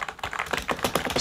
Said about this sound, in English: just tapping away on the keyboard